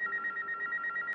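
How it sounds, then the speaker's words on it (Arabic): A telephone in an editor's office rings with a steady electronic warble, repeating evenly and fairly loud throughout with no voices. "رد على التليفون."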